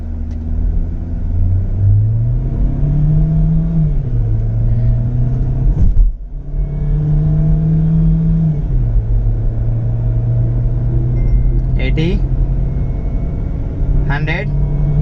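An MG Hector with a dual-clutch automatic accelerates from a standing start, a loud in-cabin engine hum climbing and dropping through several gearshifts with a sharp break midway, while voices speak over it.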